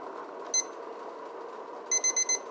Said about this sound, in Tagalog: Ayan, tumunog ng ating alarm.